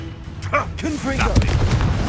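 A fiery Confringo spell blast goes off in the Hogwarts Legacy video game, a short booming burst mixed with game effects and a spoken voice.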